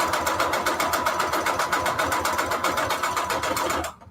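A home sewing machine runs at a fast, steady stitching pace, its rapid rhythmic whirring pulses repeating evenly up close before stopping abruptly at the end.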